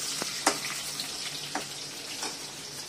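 Potatoes frying with cumin seeds in a pan for a cauliflower masala, a steady broadband sizzle with a few sharp clicks and pops from the pan, close and alone.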